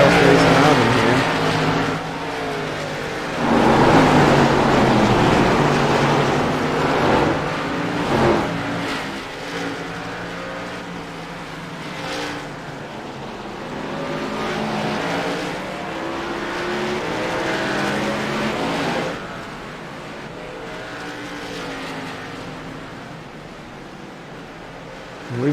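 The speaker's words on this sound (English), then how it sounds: "There's everybody else racing around in here." ARCA Menards stock cars race around an oval track at night, engines droning and surging continuously as packs pass, loud throughout with swelling and fading roars.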